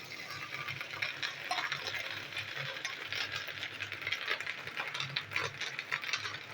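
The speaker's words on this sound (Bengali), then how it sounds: "এই বন্ধুরা, মাছের ডিমটা আমি ভেজে নিচ্ছি।" Salted fish roe frying in hot oil, a steady dense crackle and sizzle with scattered pops running throughout, close and continuous with no talk.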